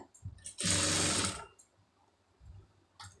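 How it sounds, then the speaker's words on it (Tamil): A sewing machine runs one steady, close burst of about a second while stitching the edge seam of lined cloth for a hook strip, with faint fabric handling before and after. "முதல்ல வந்து ஓரத்து தையல் வந்து போட்டுருங்க"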